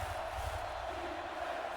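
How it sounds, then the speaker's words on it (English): Hellcats crowd cheering in a football video game as the home defense is urged on near the two-minute warning, a faint, steady wash of massed voices with no distinct peaks. "As this Hellcats crowd tries to get behind their defense"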